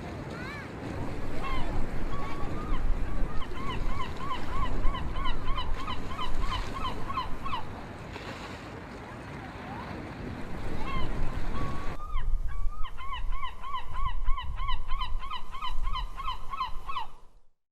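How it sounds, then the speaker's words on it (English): Seagulls give repeated squawking calls over the steady wash of ocean surf, loud and close, in two bursts separated by a short quieter stretch. "Seagull."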